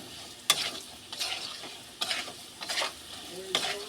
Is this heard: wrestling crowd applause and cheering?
no